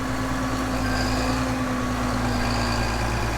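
A big tractor pulling a heavy cultivator with discs and packers drones steadily, a loud, constant engine hum with a low tonal throb and no voices.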